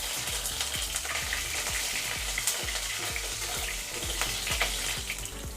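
Mustard seeds and urad dal crackle in hot oil as sliced onions fry with them for sambar, a loud steady sizzle pierced by rapid, regular popping and spattering.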